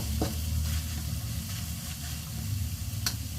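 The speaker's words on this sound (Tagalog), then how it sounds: "Mabagong luto na ang ating bagoong. Mas maganda pag maluto ang bagoong para mas masarap." Bagoong, a Filipino shrimp paste, sizzles steadily as it fries in a pan, a dense continuous crackle with a couple of brief stirring scrapes, close and alone with no talk.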